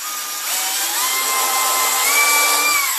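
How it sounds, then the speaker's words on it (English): A power drill whines steadily close by, its pitch climbing and holding as the bit bores through a plastic bucket, with no talking. "Then drill through there, drop your first bolt in."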